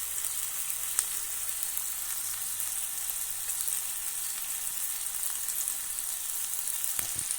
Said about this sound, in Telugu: ఇలాగే ఈ ఆయిల్లో బాగా మగ్గబెట్టుకోవాలండి